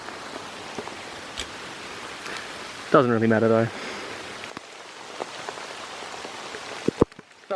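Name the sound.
rain falling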